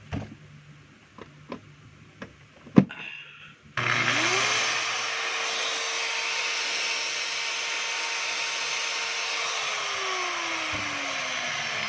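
A DeWalt DWP849X polisher, fitted with new carbon brushes, is tested. A few sharp clicks and knocks come first. Then the motor starts with a loud, steady whine that runs close and alone, and it winds down near the end.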